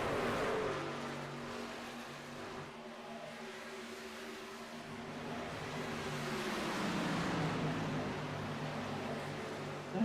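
NASCAR racing trucks roar around Las Vegas Motor Speedway, a continuous dense engine drone with shifting pitch as the pack passes, steady and loud throughout with no talk.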